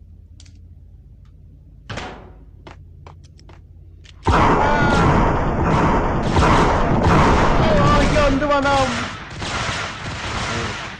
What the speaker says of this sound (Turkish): Ne patlama.